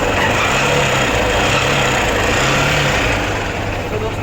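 Hero Honda CBZ motorcycle engine running rough with a knocking piston ring fault, a steady, loud mechanical chug with a low pulsing beat that goes on without a break.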